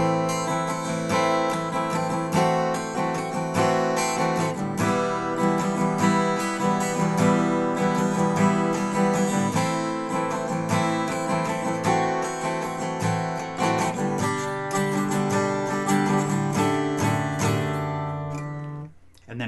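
An acoustic guitar plays a section of a song, with strummed chords ringing continuously and fairly loud for nearly twenty seconds, then stopping abruptly.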